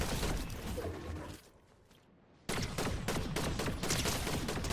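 Rapid gunfire rattles loud in Fortnite as weapons are switched mid-shooting, with a short lull in the middle before dense bursts of shots resume.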